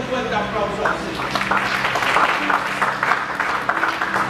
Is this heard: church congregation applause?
yes